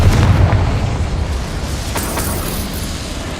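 A Confringo fire spell blasts in Hogwarts Legacy, a loud, heavy explosion with a deep boom at the onset that rolls off into a long rumbling tail.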